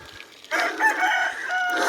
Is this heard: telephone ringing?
no